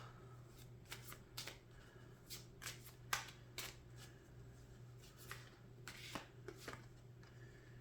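Oracle cards shuffled close up in a quiet room, with a run of short papery riffling bursts and soft slaps at an uneven rhythm and no voices.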